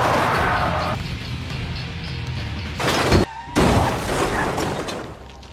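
A film scene of a car falling from an unfinished bridge and exploding: a heavy crash and boom burst out, cut by a short silent gap, then a second loud impact over a rumbling soundtrack.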